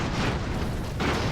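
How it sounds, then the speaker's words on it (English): Explosions in the airship battle game Airships: Conquer the Skies, deep rumbling booms that swell and roll together, a fresh burst near the end, loud and close with no speech over them. "Ah, explosions."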